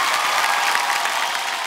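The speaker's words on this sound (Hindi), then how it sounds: "गोलू के लिए तालियां हमारे यार" Audience at the Indian Television Academy Awards applauding, a dense, steady wash of many hands clapping together, loud and continuous throughout the brief moment.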